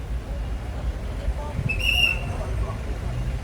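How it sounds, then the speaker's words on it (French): A traffic officer's whistle shrills once on a busy Douala street, a short sharp blast standing out over steady road traffic and distant crowd noise. "Voilà, il siffle."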